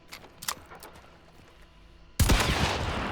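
A shotgun loaded with slug ammunition fires in Hunt Showdown 1896, one loud close blast arriving abruptly after quiet faint ambience and ringing out to the end.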